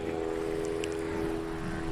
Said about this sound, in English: This airplane makes me uncomfortable with the way it sounds.